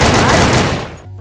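A TRG sniper rifle shot in the online shooter Sudden Attack during a tournament match: one loud, broadband blast with a long decaying tail of roughly a second, fading to a low hum.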